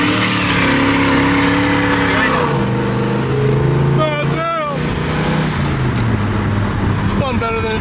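A V8-swapped Ram50 pickup pulls hard in third gear, its engine note rising in a loud, continuous climb before a brief shift and renewed acceleration close by.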